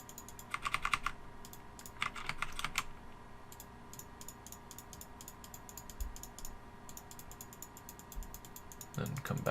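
Computer keyboard arrow keys are tapped to step through an embroidery design, giving clusters of light, crisp clicks in short bursts with pauses, at moderate distance; a voice briefly enters near the end.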